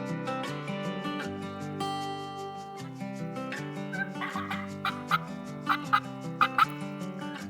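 Repeated wild Merriam's turkey gobbles ring out in Colorado over a backdrop of steady music, growing more frequent toward the end.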